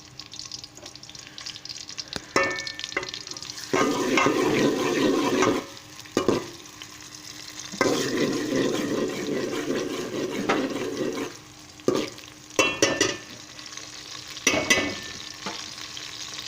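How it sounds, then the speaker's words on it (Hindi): Sliced onions fry in a pan with a hissing sizzle that swells and fades in bursts as they are stirred, broken by metallic scraping and clinks of the spoon, close up with no voices. "प्याज को सुनहरा होने तक भूनेंगे हम इसको"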